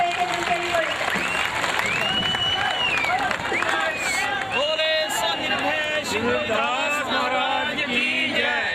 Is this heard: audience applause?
yes